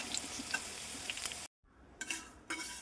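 Steady oil sizzle fills the first half, cuts to near silence, then returns with stirring clatters and crackling bursts of frying.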